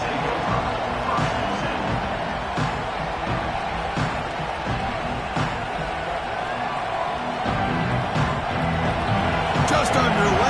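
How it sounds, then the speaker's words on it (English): A home crowd roars continuously at a college football game just after kickoff, a dense, steady wash of cheering heard from within the stands. "this home crowd is fired up and ready to make a difference today"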